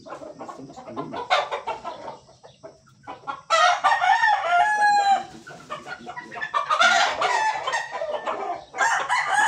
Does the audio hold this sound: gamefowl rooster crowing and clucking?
yes